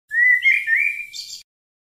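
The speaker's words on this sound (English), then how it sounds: "Bird." A single bird chirps alone at close range, a bright whistled call with a few quick rising and falling notes, followed by silence.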